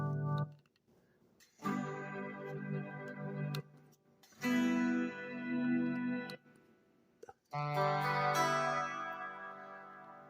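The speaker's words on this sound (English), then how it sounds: "As you hear, it sounds like an organ right now." A small guitar amp plays organ-like sustained tones in separate bursts with short silent gaps between them, close and clear.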